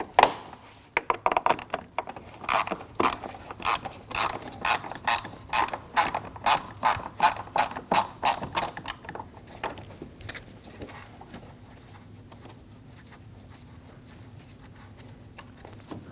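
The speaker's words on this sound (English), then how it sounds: "Using a T25 bit, we're going to remove the screw for that trim." A ratchet with a T25 bit removes a trim screw on a 2012–2022 Volkswagen Passat. It gives a loud, rapid run of clicking ratchet strokes for about nine seconds, then fades to faint background noise.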